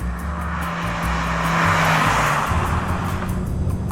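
A 2012 Mazda3 Skyactiv pulls hard in third gear up a steep incline, its engine note rising steadily beneath loud road and wind roar, with no talking.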